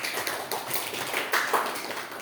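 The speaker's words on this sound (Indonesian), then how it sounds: "Tepuk tangan untuk kita semua." A classroom of students clapping together after group work, a dense, even patter of many hands filling the whole stretch at moderate loudness with no talk over it.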